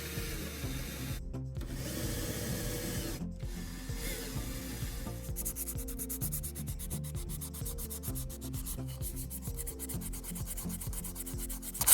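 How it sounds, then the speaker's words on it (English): Stainless steel being sanded aboard a Hallberg-Rassy 312 sailboat during a bilge overhaul: a steady, close, continuous abrasive rubbing with a rhythmic pulse that runs the whole time and never pauses. "You need to sand the stainless steel"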